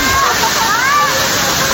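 Batlag Falls pours in a loud, close, continuous broadband rush of falling water, with voices speaking briefly over the roar.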